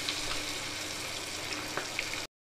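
Chicken lollipops deep frying in plenty of hot oil, giving a dense, even hiss with faint bubbling pops. The sound stays steady and close, then cuts to silence just before the end.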